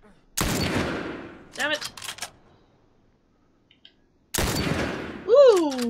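Gunfire from The Last of Us gameplay: two sharp broadband blasts with decaying tails, a few seconds apart, with a voice reacting in between and over the second shot.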